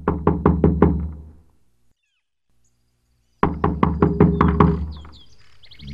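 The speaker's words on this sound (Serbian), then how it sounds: "Onda neko pokuca na vrata." Someone knocks on a door in an audio bedtime story, two close, crisp bursts of about five rapid raps each, separated by a couple of seconds of silence.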